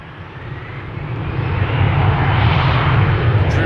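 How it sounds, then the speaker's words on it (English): An Emirates SkyCargo freighter at Amsterdam Schiphol Airport gives a steady, broad jet roar that swells louder as it approaches, with no voices. "Here we have Emirates Sky Cargo coming this way."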